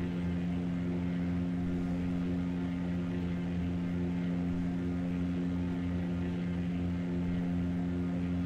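An aircraft engine drone in the flight simulator Flight Sim World, multiplayer pattern flying at KSBP San Luis, a steady propeller hum with strong low harmonics holding level throughout, no voices.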